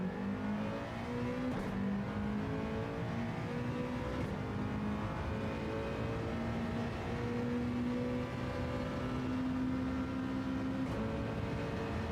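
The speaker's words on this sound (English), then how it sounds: "Let's try to rev out fifth just for giggles." Car engine in the WRC rally video game revving out through fifth gear, a loud continuous drone with rising harmonics that climb steadily, falter briefly and resume, without speech.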